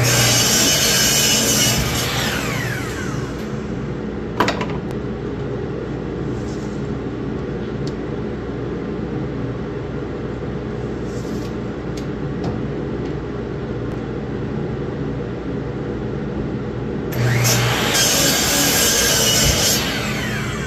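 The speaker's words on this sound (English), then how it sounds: "All right, I got my dust collector on. You can probably hear it." A dust collector runs steadily in a woodshop during a cedar cutting session, a loud continuous roar with no talk. A brighter, harsher burst at the start and again near the end could be a saw cutting.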